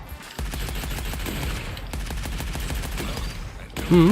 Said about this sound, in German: Dann können wir jetzt mal ein bisschen ballern